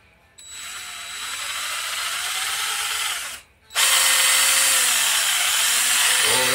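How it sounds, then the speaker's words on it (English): A power drill bores out a rotisserie pin, whining steadily for a few seconds, pausing briefly, then restarting louder and harsher, close and alone. "I'm gonna drill my pin out now."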